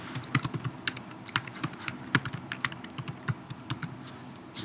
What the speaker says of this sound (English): I'll type in the password sample.